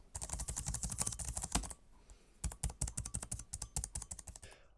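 Rapid clacking of an Alienware m15 R5 Ryzen Edition laptop keyboard being typed on, close and crisp, in bursts with a short pause midway.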